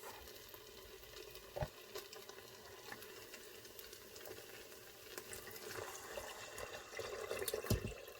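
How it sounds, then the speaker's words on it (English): Broth pours into a pressure cooker holding browned hamburger, a faint liquid swishing and splashing over low sizzling that swells toward the end, quiet and close, with no speech. "Now we're going to add our broth."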